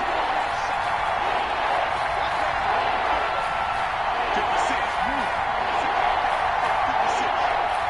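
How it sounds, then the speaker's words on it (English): A stadium crowd in a PS4 football game roars steadily before a big third down, a loud, dense, unbroken wall of cheering with faint commentary beneath. "The crowd getting into it as we come up on a big 3rd down."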